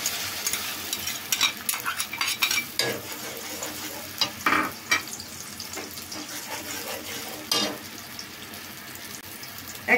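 Spices frying in hot oil in a pan for a bottle gourd and shrimp curry, a steady sizzle with scattered stirring scrapes and clinks, fairly close and with no talking.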